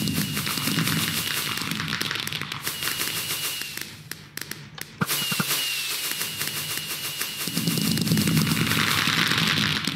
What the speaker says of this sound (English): Christmas fireworks.